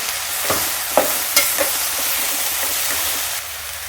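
Spoon stirring a spice paste with salt and turmeric in a frying pan for a traditional Maharashtrian Bhogi vegetable dish: a few sharp scraping strokes over a steady low sizzle, close and clear, with no talking.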